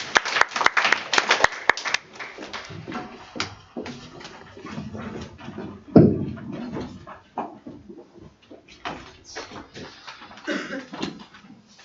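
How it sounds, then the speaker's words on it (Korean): A church or lecture audience claps at a mission talk: a brief burst of clapping at the start, then scattered, sparse claps and light room noise that taper off. "박수 한번 주세요."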